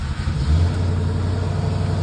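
A Ford F-250 pickup with low fuel pressure cranks and starts roughly, a loud steady low engine rumble that wavers unevenly close by, with no talking.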